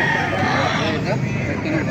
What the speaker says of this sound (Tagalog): Mga gandang Chinese chicken